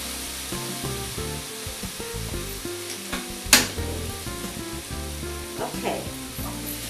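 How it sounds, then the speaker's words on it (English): Marinated meat sizzles loudly in a hot pan, and stirring adds scraping and a sharp clatter midway. Under the steady hiss runs a background melody. "In goes the meat, the rest of the marinade in there, and give it a good stir"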